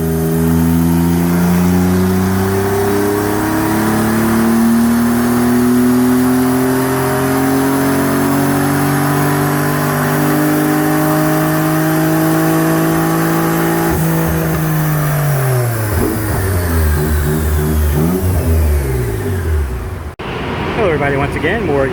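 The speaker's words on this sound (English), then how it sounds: "we've got the first generation 3000 GT VR-4 here on the dyno at Countersteer" A 1991 Mitsubishi 3000GT VR-4 engine revs hard on a chassis dyno, loud and close, its pitch sweeping up in long pulls before dropping and winding down, with a brief cut near the end.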